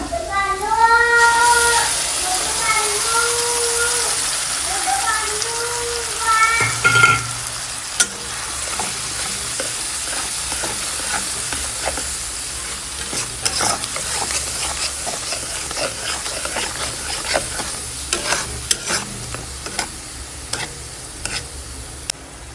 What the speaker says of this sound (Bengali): ভালো করে পেঁয়াজটা আমার ভেজে নেওয়া হয়ে গেছে